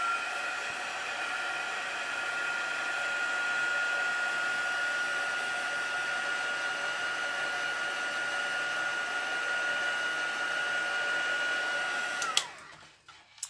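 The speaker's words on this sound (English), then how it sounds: "I am going to grab my heat gun and just get this dry quick" A heat gun blows hot air to dry a handmade craft card, a loud steady whine that runs continuously for about twelve seconds and then cuts off abruptly, leaving a few faint clicks.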